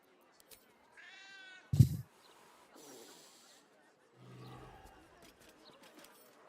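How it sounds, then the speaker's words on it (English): A cat in the video game Baldur's Gate 3 meows a few short times between stretches of game sound effects and music, close and clear. "I successfully rolled to pet the cat."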